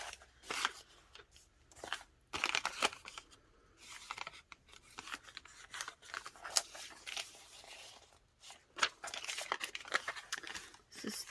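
Brown paper handled during junk journal crafting: ongoing crinkles, rustles and papery scrapes at close range, with no talking.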